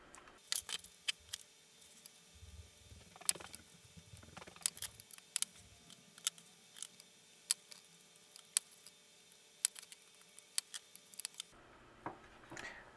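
Sharp, scattered snips and clicks of small cutters trimming excess fine Kynar wire during an Xbox HDMI mod solder job, close and fairly quiet, with brief handling rustle and no talking.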